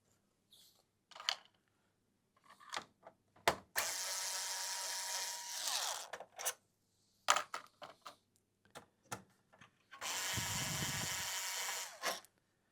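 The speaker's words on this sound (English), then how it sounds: "So we'll unscrew these, and as you can see, they're quite long screws." Long screws being unscrewed from the heatsink of an HD96-AIR amplifier with a ratcheting driver, two long buzzing runs of clicking ratchet, scattered with small metallic taps and clinks, close and fairly quiet.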